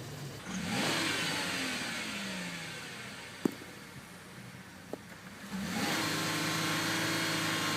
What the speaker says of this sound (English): That's the rev limit. We'll not go any higher than that.